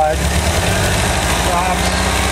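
A 1985 VW Vanagon engine runs steadily close by with the vacuum advance connected, a dense, even drone with a low throb and no clear rise or fall across the short stretch.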